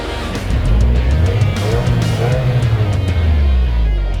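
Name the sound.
2023 Subaru WRX engine and sports exhaust on dirt track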